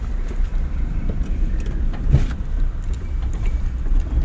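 A car moves along a road in second gear on a driving lesson, giving a steady low engine and road rumble at close range with faint rattles inside the cabin.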